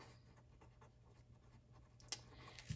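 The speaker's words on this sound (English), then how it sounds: "So I will take my Sharpie pen and I will write down" A Sharpie pen writes on paper in a planner, making faint soft scratchy strokes followed by a couple of light taps.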